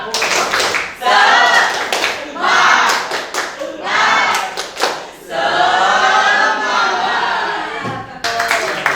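A school class performs a rhythmic clapping cheer, bursts of group handclaps in a patterned beat alternating with children chanting together, loud and close.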